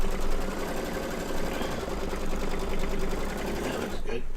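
An embroidery machine stitches down a hexagon zipper bag, a loud, steady rapid mechanical whir and needle chatter running continuously, with a person talking over it.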